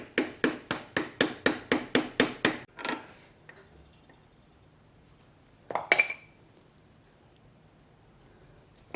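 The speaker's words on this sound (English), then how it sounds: "I'm going to use the plastic end of a hammer and carefully drive it in." The plastic face of a hammer taps a crankshaft oil seal into a KTM/Husky two-stroke engine, about ten evenly spaced close knocks followed by quiet and one more pair of sharper taps later.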